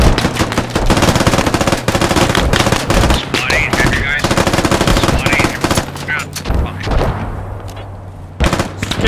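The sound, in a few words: gunfire shooting vehicle wheels in video game Squad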